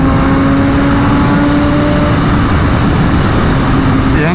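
A Kawasaki ZX-6R sport motorcycle with a Carbonado modpack revs loudly up close, a continuous strained engine roar with a held tone that climbs slightly near the end.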